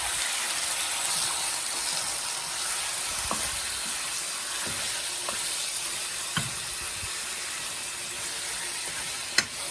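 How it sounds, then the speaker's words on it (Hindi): Mutton frying in hot oil for karahi gives a steady, close hiss and crackle, with occasional small pops and clicks throughout. "तेल हमारा गर्म हो चुका है, इसमें अब गोश्त डाल देंगे।"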